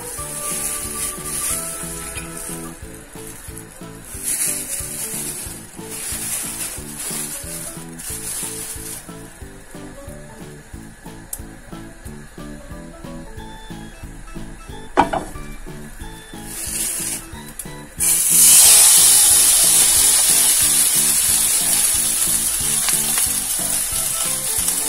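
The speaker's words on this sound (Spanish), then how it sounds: "Continuando con la preparación de la hamburguesa, ahora vamos a freírla." A hamburger patty sizzles loudly in hot oil in a frying pan, a steady crackling fry that jumps to a brighter, harsher sizzle partway through, with faint rubbing and stirring noises beneath and no talking.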